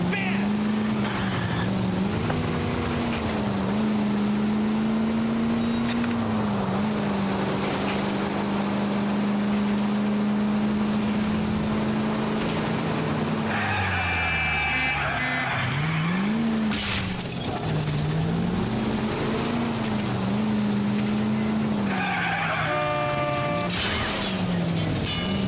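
Car driving in the 1940s Los Angeles crime game L.A. Noire, with a steady engine drone that rises and dips through gear changes, plus sharp skid and crash-like bursts midway and near the end under game music and dialogue.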